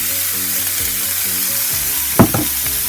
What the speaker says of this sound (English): take the hamburger and slap it on here if I can